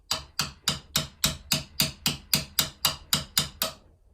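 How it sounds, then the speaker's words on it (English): Rivet being tapped out of a vintage Yale padlock resting on a workbench: twelve sharp, evenly spaced hammer taps about three per second, close and clear with no talk. "Tap it out like that, and it's not going to go anywhere."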